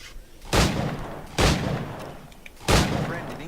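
Firearms going off in the video game Assassin's Creed Black Flag, with three loud, separate gunshot blasts spaced about a second apart, each trailing off into a rumbling decay.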